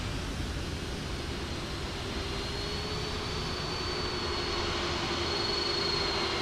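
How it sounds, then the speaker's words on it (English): Twin Rolls-Royce Trent 700 jet engines of an airliner in Microsoft Flight Simulator 2024 produce a steady, loud whine with a sustained high tone over a broad rumbling roar, unbroken and without talk. "You hear those Trent 700 engines whining? Wow, what a noise."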